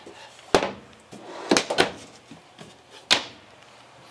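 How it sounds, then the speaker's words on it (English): Deep kitchen drawers in a 2022 Winnebago Micro Minnie FLX travel trailer sliding open and shut, giving several sharp, close knocks and thuds spaced about a second apart with softer rattles between. "They give nice deep drawers."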